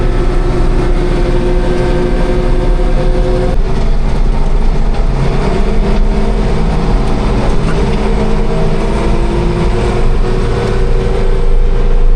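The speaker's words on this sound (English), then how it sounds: "We're in the 3488, dragging these wagons up the road." A 3488 tractor engine pulls hay wagons up a road, a loud, steady, close droning rumble with a constant low hum that holds for the whole stretch, with no talking.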